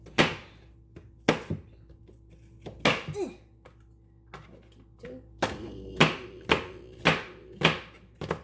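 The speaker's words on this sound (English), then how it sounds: "let's finish chopping up the rest of this apple so we can add it" Knife chops through an apple on a cutting board, sharp thunks in uneven clusters with pauses between, close by and fairly loud.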